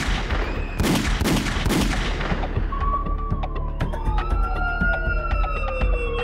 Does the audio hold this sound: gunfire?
yes